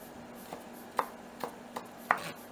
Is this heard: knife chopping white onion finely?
yes